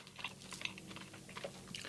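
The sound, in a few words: chewing a crunchy cinnamon bun with frosting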